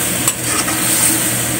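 Dalag (mudfish) being stirred in a hot pan for kinunot, a soft steady sizzle with faint scraping of the utensil running continuously and close, no talk.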